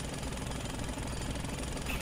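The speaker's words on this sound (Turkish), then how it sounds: "Kırılan büyük parçaları da dozer parçalayacak" A bulldozer's rear-mounted rock breaker hammers at a big rock, a dense continuous pounding clatter heard from a distance, faint but steady throughout.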